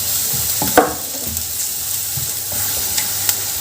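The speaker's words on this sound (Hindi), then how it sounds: "हम पत्ता गोभी को भी ऐड कर देंगे और 1 मिनट के लिए भून लेते हैं।" Chopped vegetables and cabbage stir-fry for fried rice in a pan, giving a continuous sizzle with a few clattering stirs, one sharper knock near the start.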